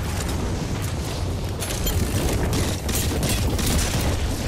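Grenade blasts and battle noise from the video game Apex Legends make a loud, dense roar with a few sharper bursts rising out of the constant rumble.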